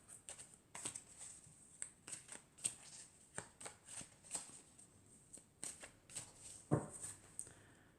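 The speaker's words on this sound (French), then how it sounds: "Alors donc je vais tirer 4 cartes." Tarot cards shuffled and drawn by hand, four cards pulled, giving soft repeated papery flicks and slaps in an irregular rhythm, quiet and close with no talk over them.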